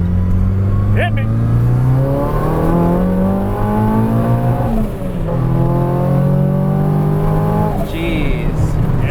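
An SR20-swapped 1970s Datsun 240Z with Haltech engine management revs hard at full throttle, loud and close, its engine note climbing and falling in repeated sweeps.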